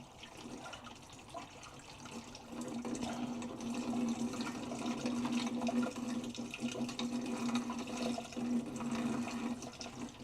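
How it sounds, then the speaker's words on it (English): A mix of Iron Out cleaner and warm water pours steadily into a Whirlpool water softener brine tank with a hollow, splashing rush that grows louder after the first few seconds and continues without talk. "we're pouring 1 cup of iron out and 1 cup of warm water mixed together"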